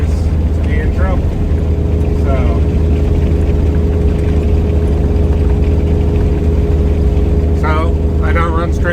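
A cabover truck with a muffler drives along, its engine a steady low drone throughout, while someone talks over it in short stretches.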